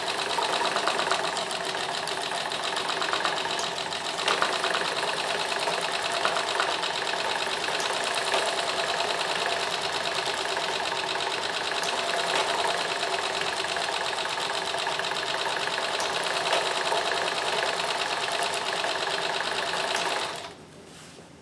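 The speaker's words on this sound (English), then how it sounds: "Coming across a thick seam here, so it's grumbling a bit" A Singer 201K sewing machine labours through a thick seam on a cravat, running loud and steady with a heavy grumbling drone for about twenty seconds before stopping abruptly.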